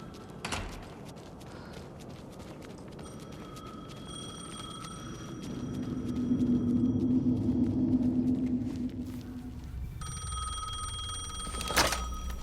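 A telephone rings in the video game Alan Wake 2, with repeated electronic ring tones over a low, dark ambient rumble that swells midway, then a sharp hit and a fresh ring near the end.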